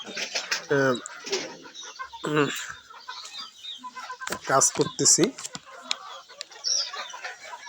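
Desi (native village) chickens cluck in short bursts around someone talking close by, with bird calls scattered through the background.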